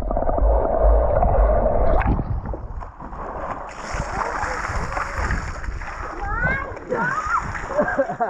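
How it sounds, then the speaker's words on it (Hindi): A man jumps into a farm house swimming pool with a loud, close splash and a heavy rush of water. Excited children's voices and family chatter carry on over the sloshing afterward. "पापा ने एकदम जोर से जंप मारा और वो सारा पानी नीचे गिर गया"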